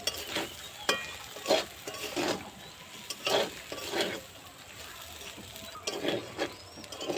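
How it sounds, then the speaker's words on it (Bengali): Sabudana pulao with ground pepper and garam masala is stirred in a pan, giving irregular scraping and clattering strokes over a soft, steady sizzle, with no talking. "নামানোর আগে দিয়ে দেবো গোলমরিচ গুঁড়ো আর দিয়ে দেবো গরম মশলা গুঁড়ো দিয়ে একটু নাড়াচাড়া করে নেব"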